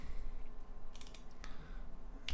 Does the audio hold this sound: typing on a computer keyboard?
yes